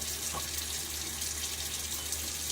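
A thin stream of tap water trickles steadily while water is added to shaving lather, a constant close hiss with no voices over it.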